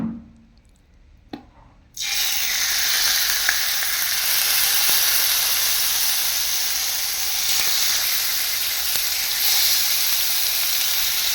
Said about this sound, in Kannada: ಲೋ ಫ್ಲೇಮ್ ಫ್ರೈ ಮಾಡ್ತೀನಿ